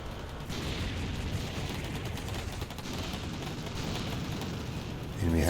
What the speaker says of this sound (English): We can now pummel the HQ with direct cannon fire.